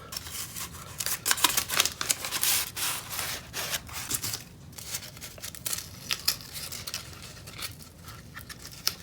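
Masking tape peeled by hand off a freshly painted model rocket fin, a run of close, dry tearing and rasping strips with short pauses between pulls.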